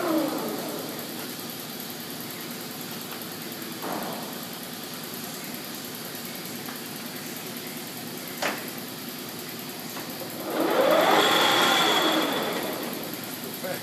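A Lodge & Shipley 18-inch by 102-inch engine lathe runs steadily with its feed and thread bar turning, a continuous mechanical drone with a few sharp ticks and a louder whining surge near the end.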